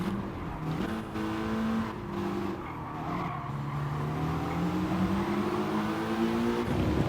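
A Mitsubishi Lancer Evo Final in a racing video game at Tsukuba Circuit revs hard, its engine pitch climbing and dropping through quick upshifts, with tire squeal over a constant loud drone.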